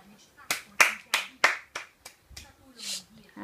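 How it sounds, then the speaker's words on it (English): About eight sharp hand claps ring out one after another in an uneven rhythm, close and crisp, with a voice calling out between and over the claps. "Clap! Clap! Clap! Clap!"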